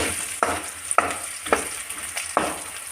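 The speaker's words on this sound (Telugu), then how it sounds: "మంచిగా చక్కగా కాలే వరకు ఫ్రై చేయాలి" Red lentil curry ingredients fry in a pan with a constant sizzle, broken by four sharp scraping strokes of stirring at roughly regular intervals.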